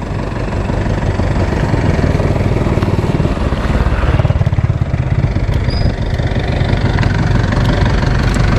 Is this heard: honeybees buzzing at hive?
no